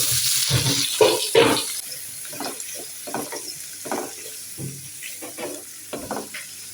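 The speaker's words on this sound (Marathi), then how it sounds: "मसाल्यासाठी आपल्याला हे व्यवस्थित तेलामध्ये फ्राय करून घ्यायचं आहे भाजून घ्यायचं आहे तेल इथे गरम झालेलं आहे" Chopped onion and dried coconut fry in hot oil for a spicy Maharashtrian dish, giving a close, crackling sizzle with uneven bursts of spattering and no talking.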